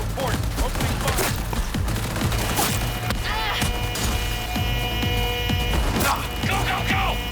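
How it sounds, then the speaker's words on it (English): Gunfire in the video game Cyberpunk 2077, a dense, continuous fusillade of rapid shots and cracking impacts lasting throughout, with voices and combat chatter mixed in. "Opening fire!"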